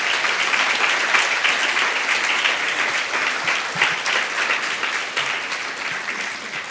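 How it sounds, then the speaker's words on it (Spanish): Loud, sustained applause from a church congregation, steady clapping filling the room throughout with a faint murmur of voices underneath. "Dele un fuerte aplauso entonces a Él."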